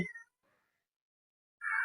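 Two short, high meows from a kitten nearby, one at the start and one at the end with silence between.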